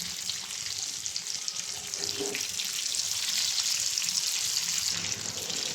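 Fish frying in a pan, with a steady close sizzle that swells a little toward the middle and stays fairly quiet throughout, no voices.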